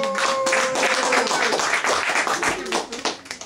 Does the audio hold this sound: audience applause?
yes